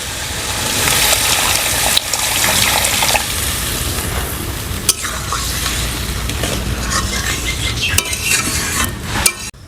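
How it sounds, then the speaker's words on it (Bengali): Water being added to spiced curry masala in a wok for Bengali lemon katla kalia, a loud continuous hissing pour and sizzle with intermittent clinks and scrapes of stirring, close up and without speech. "কড়াইতে জল দিয়ে দিয়েছি"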